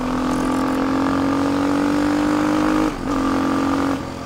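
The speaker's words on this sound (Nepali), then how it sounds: "एक राउन्ड हानेर आउँछ है कायो K6 मोटर, यो चाहिँ FI हो क्या" A Kayo K6 motard motorcycle runs at a steady, loud engine drone with a strong tonal hum, briefly dipping as the throttle eases near the end, then settling lower.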